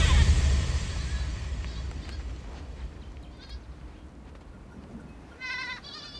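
Goats bleat in a desert setting in Morocco, several short wavering calls rising over a rumbling, windy background, with the loudest bleats clustered near the end.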